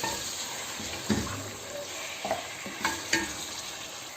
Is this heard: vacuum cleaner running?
no